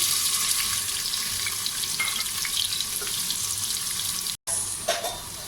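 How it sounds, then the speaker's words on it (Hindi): Chopped onions drop into cumin seeds sizzling in a hot pan, a steady broadband frying hiss lasting throughout, close and fairly loud, with a brief gap near the end before the crackle resumes. "ये देखें, ज़ीरा थोड़ा सा भुनने लग गया। अब हम इसके अंदर प्याज डाल देंगे।"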